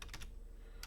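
Brief bursts of typing on a computer keyboard, a few quick key clicks at the start and another short cluster near the end, quiet and close.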